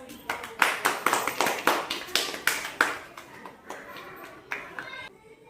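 Children in a primary classroom clapping together in a quick, even rhythm of about fifteen sharp claps that thin out and fade toward the end, with voices faintly underneath.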